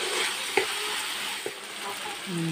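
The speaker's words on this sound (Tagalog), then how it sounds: "sahugan na natin sa ating corned beef, guys, kasi medyo luto na yung ating sitaw para makalasa na" Corned beef and string beans sauté in a hot pan with a continuous close sizzle, broken by a couple of sharp scrapes from stirring.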